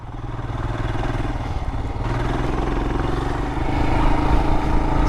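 Royal Enfield Himalayan (2022) single-cylinder motorcycle engine pulling steadily under load while riding, a close, continuous low thrum that swells slightly as it accelerates near the end.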